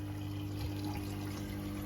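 Water from a koi pond's bottom drain flowing through to water butts: a faint, steady trickle beneath a constant low pump hum.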